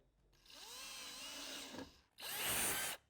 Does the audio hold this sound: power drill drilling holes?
yes